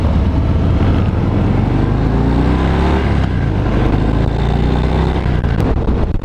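A 2018 Harley-Davidson Fat Bob motorcycle engine droning steadily at low revs, under 2000 rpm in sixth gear at about 80 km/h, a constant deep hum with wind rush and no voices over it.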